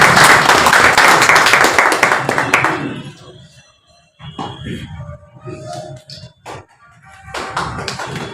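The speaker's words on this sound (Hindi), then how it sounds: "जरा जोरदार तालियों का नजराना पेश करें।" An audience at a stage event gives loud applause, a thick wash of clapping that fades out after about three seconds, followed by scattered thumps, shuffling and faint murmurs of a room settling.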